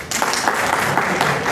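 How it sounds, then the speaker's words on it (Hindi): An audience applauds a speech, with a dense, steady wash of many hands clapping together that is loud and sustained throughout. "इसलिए अपने आप के लिए भी ताली बजाइए"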